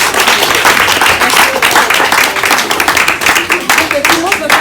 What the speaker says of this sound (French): je voulais qu'on l'acclame et qu'on lui dise un grand merci